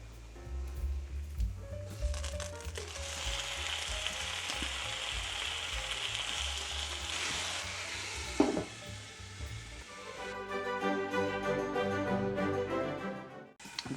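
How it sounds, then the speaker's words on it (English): Bacon fries in a cast iron pan set over two stovetop burners on medium, giving a steady, close crackling sizzle that runs throughout, with a brief louder pop and faint movement near the middle. "We're going to start our bacon."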